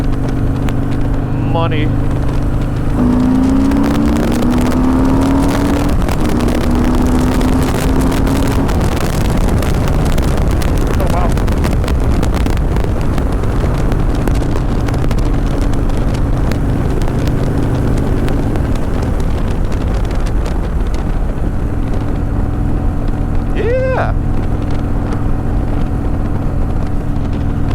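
A Harley-Davidson Softail Sport Glide Stage II engine pulls uphill in third gear at about 3,000 RPM. A steady, rising engine drone sits under heavy wind rush while a rider talks over it.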